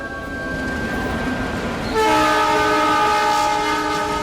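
A Mumbai local train rumbles past with a horn sounding, the horn swelling louder midway and holding over the steady rolling noise of the carriages.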